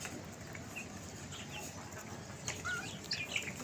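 Chickens in a backyard flock, a mix of black and white hens with chicks, give soft scattered clucks and short calls at a distance over a quiet outdoor background.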